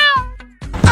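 A cat gives a short, clear meow up close, followed by a brief second sound and a rustle.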